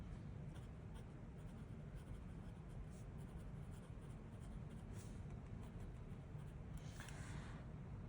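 A fountain pen with a fine nib scratches across paper in short strokes, faint and close, with a steady low background rumble underneath.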